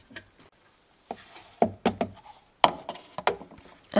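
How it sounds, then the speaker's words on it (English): The plastic detergent dispenser drawer of a Samsung washing machine is handled, giving a series of sharp close knocks and clicks in an irregular rhythm with quiet gaps between them. "I'm just going to pop some detergents in the dispenser drawer."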